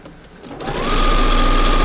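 A sewing machine stitches fabric around a corner for a front porch project, starting softly and then building to a loud, steady, rapid whirring run, close up, with no talking.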